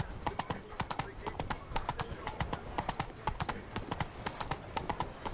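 Roach, a horse in The Witcher 3, gallops with fast, even, close hoofbeats repeating without pause across the whole stretch.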